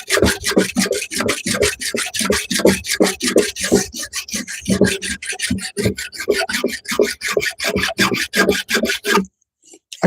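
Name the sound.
filing with a hand file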